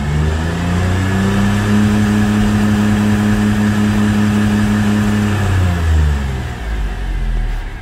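A 1999 Mercedes-Benz CLK320 engine revs in neutral and holds a steady high drone against its safety fuel cutoff near 4,400 RPM, then drops back toward idle near the end. The sound is loud and close, with no voices.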